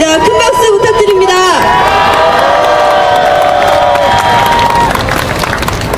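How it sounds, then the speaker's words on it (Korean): A crowd at a political rally for a general strike cheers and applauds loudly, a dense roar of voices and whoops that holds steady, with shouted and sung voices rising over it. "큰 박수 부탁드립니다"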